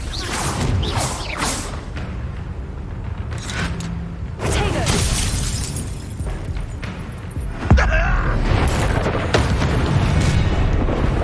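A Confringo fire spell going off in Hogwarts Legacy, loud whooshing blasts and booming bursts layered over dense game effects and music, with a sharp explosive surge partway through and a voice briefly heard.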